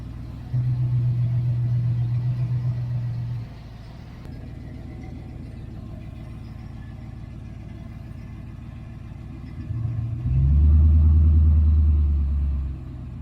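Car with freshly done brakes rolling and idling with a low engine rumble, steady throughout, with a louder surge of engine drone near the end; no voices.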